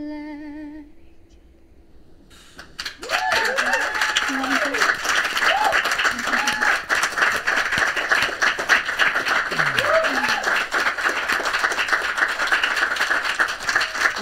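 Audience applause and clapping after an Idol Norway audition, starting abruptly and holding steady at full volume, with voices talking and calling out over the dense clapping.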